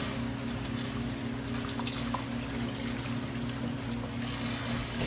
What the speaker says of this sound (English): I like to cut up my celery and then I'll just rinse them.